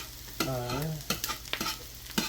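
Meat and spaghetti noodles get stirred in a pan, with a few sharp scrapes and clatters of a utensil over a low sizzle, close by, plus a brief hum that may be a voice.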